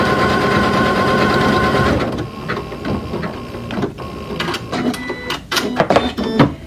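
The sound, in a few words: sewing machine stitching zigzag on pin cushion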